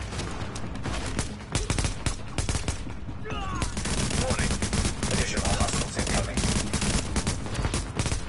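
Dense gunfire in The Division co-op combat, with repeated heavy shotgun-like blasts and automatic bursts, close and loud, while voices talk over the fighting.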